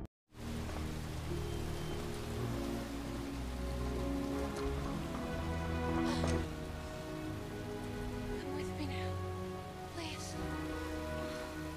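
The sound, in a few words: heavy rain in film scene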